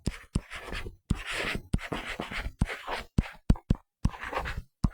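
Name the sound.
writing by hand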